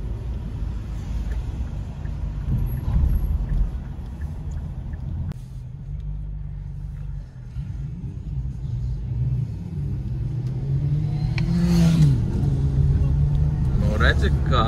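A motorcycle passing on a Riga street, its engine note rising and falling toward the end over a constant low road rumble from inside a vehicle, with voices talking.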